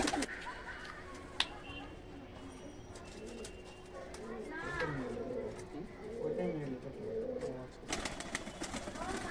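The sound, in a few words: pigeon cooing, high-flying fancy pigeons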